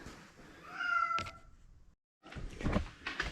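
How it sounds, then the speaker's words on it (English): A domestic cat meows loudly and close by, one long, drawn-out meow followed by thumps, a short silence and then clattering, knocking sounds. "Cat! Come over here, you're being loud."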